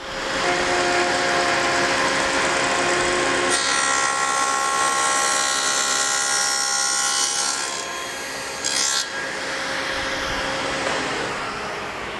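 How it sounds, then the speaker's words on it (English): A power saw cuts into the ends of wooden pedestal pieces for a table-saw outfeed table, a loud, steady whining rasp that holds for several seconds, briefly shifts pitch and then tails off. "Now I'm ready to make the first cuts in the ends of the pedestal pieces"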